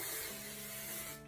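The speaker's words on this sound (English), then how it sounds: "We spray that." Hairspray aerosol sprayed onto hair, one continuous close, loud hiss lasting over a second before cutting off.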